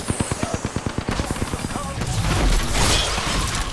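Rapid automatic gunfire in Apex Legends, a steady stream of close, evenly spaced shots for about two seconds, then dissolving into a louder, rumbling clatter of impacts and effects.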